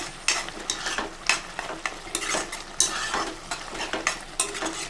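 Bottle gourd halwa being stirred in a pan on the stove, with irregular scraping strokes of a spoon against the metal over a soft sizzle, moderately loud and close.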